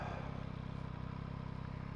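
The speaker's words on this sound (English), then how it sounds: "this engine sounds very good for a stock pipe" A 2021 Yamaha MT-09 motorcycle engine on its stock exhaust idles close by with a steady, throbbing low rumble and rhythmic pulsing exhaust note, no talking.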